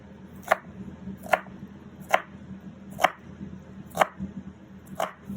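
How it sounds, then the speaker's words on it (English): A knife chops bell peppers for chili on a board in six evenly spaced, sharp, close chops about one second apart, over a low background hum. "we're going to go ahead and finish chopping up our vegetables"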